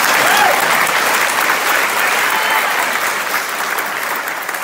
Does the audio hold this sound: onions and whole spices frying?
no